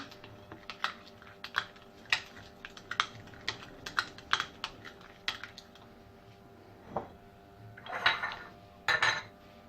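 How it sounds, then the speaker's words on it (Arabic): Fish is mixed with spices, oil and sauce in a dish before oven baking with raisins, giving a close series of irregular clicks and light clinks of a utensil against the dish, with a few louder scrapes near the end and no talking. "ونخلطو هكا مزيان حتى تدخل كامل هذيك العطريه مع الزيت ومع هذيك الصلصه مزيان"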